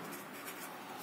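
Pen or marker writing on a board or paper while working an econometrics exercise, a steady soft scratching and rubbing that stays close and continuous, with no talk.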